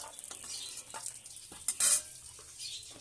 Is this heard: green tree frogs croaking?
no